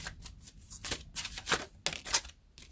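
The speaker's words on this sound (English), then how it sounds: "I'm going to try to shuffle this one up where you guys can see it." Oracle cards being shuffled close by, a run of quick papery riffles and flicks with short pauses between bursts.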